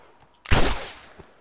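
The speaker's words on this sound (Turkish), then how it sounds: "Silahla bir iki el atış edeceğim." A single sharp gunshot in The Last of Us Remastered bursts out loud and close, then decays quickly into a short reverberant tail, with faint background sounds before and after.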